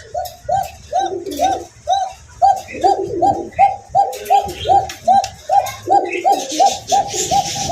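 Fancy pigeons coo loudly and close by in a steady run of rounded, repeating calls that overlap one another without a break.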